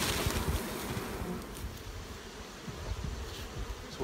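Honey bees buzz in a low, steady drone around a weak hive in an apiary. The swarm sound is close and continuous, with light wind noise and no talking.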